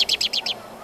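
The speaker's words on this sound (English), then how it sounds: "Another early bird is a member of the thrush family, the American robin." An American robin sings a quick run of five bright, chirping notes, clear and close, then falls quiet.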